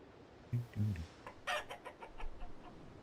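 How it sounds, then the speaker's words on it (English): Chickens clucking, with a couple of low, throaty clucks near the start followed by softer, scattered calls. The whole thing is fairly quiet against a faint background. "Chickens hard, chickens loud."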